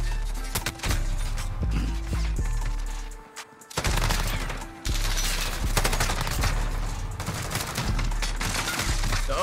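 Rapid sustained LMG fire from the Encryption MK9 in Modern Warfare, dense automatic bursts rattling loudly with a brief pause near the middle before the shooting resumes.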